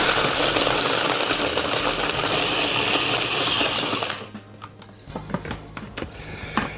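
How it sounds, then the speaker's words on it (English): A blender whirs loudly and steadily for about four seconds while mixing a creamy cocktail, then cuts off abruptly. Scattered clinks and handling knocks follow, close and unvoiced. "And then we're going to blend it."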